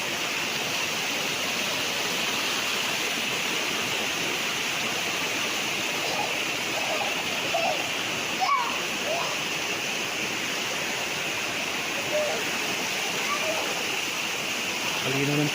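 Water from a natural spring on a farm lot in Lucban, Quezon rushes and splashes in a loud, continuous broadband flow, with a voice faintly audible underneath.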